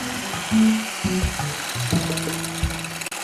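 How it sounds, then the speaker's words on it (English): An electric mixer beats eggs for a carrot cake batter, a close, steady motor whir with shifting pitch and brief pauses over about three seconds, with no talking. "I'm going to beat my eggs until they are thick and lemony in color"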